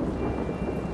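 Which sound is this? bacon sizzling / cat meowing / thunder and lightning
thunder and lightning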